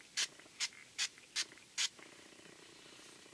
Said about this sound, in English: I'm just going to lightly spray it all over my face.